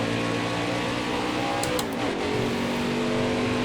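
Race car engine in NASCAR Heat 5 droning steadily at close range, with a brief burst of shift noise and a slight dip in pitch as it drops to second gear, then settling into a lower, constant tone.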